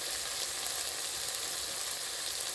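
Ground chili, salt and turmeric fry in oil with a steady, even sizzling hiss, close and continuous, with no pauses and no talk.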